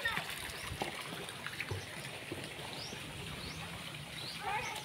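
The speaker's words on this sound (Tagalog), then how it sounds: "This is a flowing water." Water flows steadily into a pool at a mountain waterfall, giving a continuous splashing rush with faint voices in the background.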